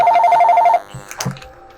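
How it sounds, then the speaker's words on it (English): A telephone bell rings in a rapid, bright trill for under a second, then cuts off, followed by a few faint thuds and clicks in near silence. "That was the phone ringing."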